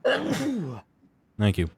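A person sneezes once sharply in a short burst; another brief vocal sound follows after a pause, with a few spoken words nearby.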